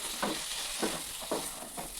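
Chicken fries in a pan with spice paste, sizzling steadily while a spoon stirs it. Four or so soft scraping strokes come at a regular pace over the constant hiss, moderately quiet and with no talk.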